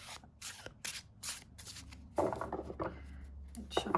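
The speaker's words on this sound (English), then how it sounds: "see about the shuffling." A large tarot deck is shuffled by hand close up, in repeated riffling bursts of card friction separated by short pauses, then a longer, denser run of shuffling with soft handling noise.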